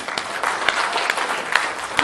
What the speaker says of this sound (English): Give the Lord a hand clap of praise again.